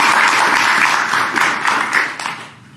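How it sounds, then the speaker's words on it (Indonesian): Audience applause at an evening training session, a dense wash of clapping hands from a room of attendees, steady and fairly loud before thinning and fading out near the end. "Untuk itu tepuk tangan kepada Anda"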